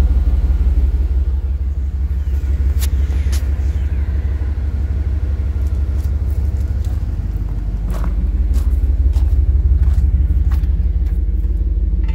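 A 1990 Chevy Suburban engine with a Flowmaster exhaust rumbles steadily at idle with a deep, throaty low tone, loud and continuous, with a slight swell near the end.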